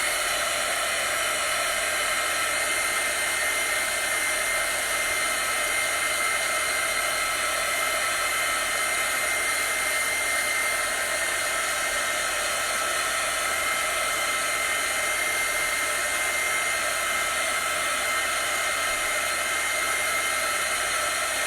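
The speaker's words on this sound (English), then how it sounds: "I'm going to take a heat gun and dry it." Heat gun blowing steadily to dry a decorative book stack, a loud continuous airy whoosh that holds unchanged throughout, with no voices.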